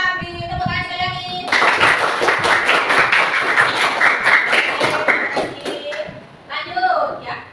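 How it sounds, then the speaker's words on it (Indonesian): A classroom audience breaks into loud, dense clapping that swells and holds for several seconds, preceded by a brief stretch of a speaking voice, with hands tapping close and fading slightly near the end. "Beri tepuk tangan sekali lagi"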